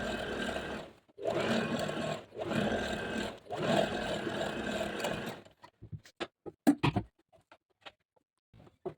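A home sewing machine runs stitching the side seams of a top made over from old palazzo pants, three loud sustained bursts with brief pauses, then a string of sharp clicks and taps as the machine stops.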